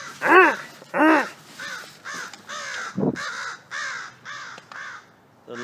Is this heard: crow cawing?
yes